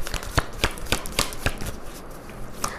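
Tarot cards shuffled and drawn in short crisp bursts, about half a dozen sharp riffles spaced roughly evenly, close up against a quiet room with no talking.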